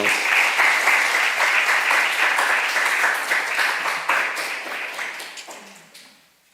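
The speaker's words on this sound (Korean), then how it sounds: "박수로 환영해 주시기 바랍니다." A church congregation applauds to welcome a visiting pastor from India at a Korean thanksgiving service, steady dense clapping filling the room before tapering off and fading out near the end.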